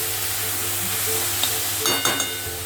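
Chicken noodles sizzle and fry steadily in a pan over a high gas flame, with a few brief clinks of stirring near the end.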